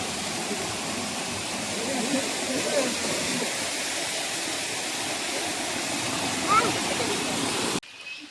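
Continuous rushing of stream water falling into a deep pool, steady and moderately loud, cutting off abruptly near the end.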